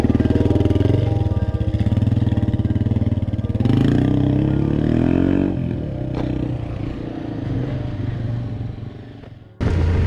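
A Yamaha Tenere 700 motorcycle engine labors and revs uphill on a trail, loud and close, with rising throttle surges and a steady throb before an abrupt change at the end.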